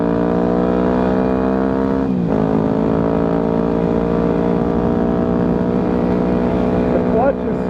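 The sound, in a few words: riding a 2009 Yamaha WR250F dirt bike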